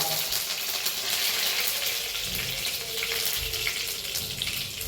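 Curry leaves crackle and sizzle as they hit hot oil with popped mustard seeds, a continuous bright frying hiss with spitting under a quiet kitchen background.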